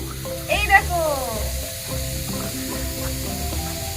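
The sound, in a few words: mixture added to a wok and stirred (making naru)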